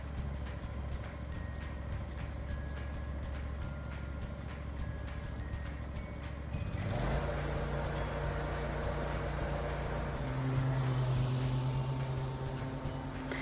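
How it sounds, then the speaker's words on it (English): A Ferris zero-turn riding lawn mower runs with a steady, droning engine hum that shifts pitch partway through and carries on evenly, close and fairly quiet. "the Ferris that I am riding today is a Zero Turn"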